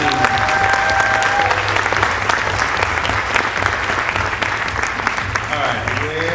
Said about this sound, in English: So give her a round of applause to the team.